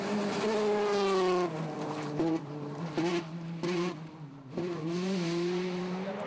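World Rally cars racing hard through heavy rain at the Rallye de Wallonie in Belgium, engines droning loud and close with rising and falling revs and several brief dips between gear changes, no talk.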